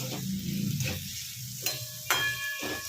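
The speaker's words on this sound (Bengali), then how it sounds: "এবার আমি এতে ডিম দুটো দিয়ে দেবো।" Two eggs going into a hot pan of frying spices with cardamom, cloves and cinnamon for egg do pyaza, with a steady sizzle, a couple of sharp clinks of a utensil against the pan and stirring scrapes throughout.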